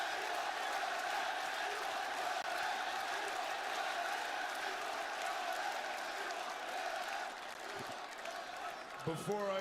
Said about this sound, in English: This crowd is fired up